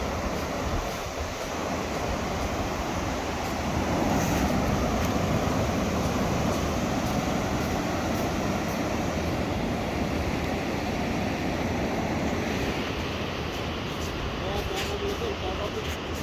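Waves wash up on the sand at Cox's Bazar beach in a loud, continuous rushing surge, with gusts of wind hitting the microphone and people talking in the background.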